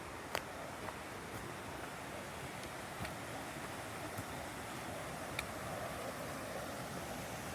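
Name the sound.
waterfall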